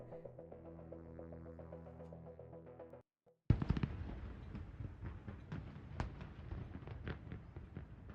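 Fireworks going off in a video game set in Free City on the eve of the millennium: after calm music stops, a sharp loud burst opens a stretch of rumbling, crackling explosions with scattered pops over a low hum.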